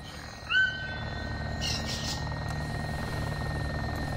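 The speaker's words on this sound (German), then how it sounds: "Ein Heli? Ziemlich flach." A low-flying helicopter in the video game Arma 2 DayZ Mod, a steady distant rotor drone and hum holding under the scene, with a brief higher whine near the start.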